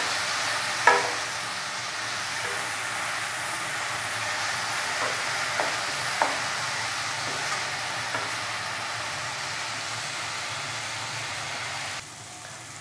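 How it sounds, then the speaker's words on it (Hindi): Tomatoes with ginger-garlic paste fry in a pan for dal banjari, a steady close hiss and sizzle with a few light spoon scrapes and taps. "मैं इसमें डालूँगी हमारा टमाटर और अदरक लहसुन का पेस्ट। टमाटर को अब हम सॉफ्ट होने तक थोड़ा सा भूलेंगे ताकि ये गल जाए।"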